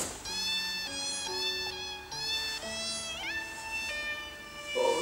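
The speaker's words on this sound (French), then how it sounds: "ils sont trop mignons les petits chatons." Little kittens mewing in a quick run of high, wavering cries, several overlapping calls rising and falling close by with barely a pause between them.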